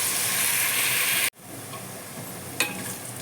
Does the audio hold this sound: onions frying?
yes